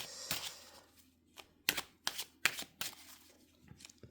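Tarot cards shuffled by hand in a quiet room, a series of crisp riffling bursts and soft slaps, close and fairly faint, coming in uneven rhythm with short pauses between them.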